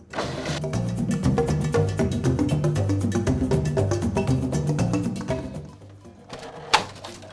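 Food processor blade whirring steadily as it grinds shredded coconut with sweetener into fine powder, a loud continuous motor drone with rattling, tapering off near the end before a brief sharp knock.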